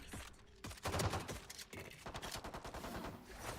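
Rapid video game gunfire crackles in dense bursts of shots and impacts, fairly quiet overall with no clear talking.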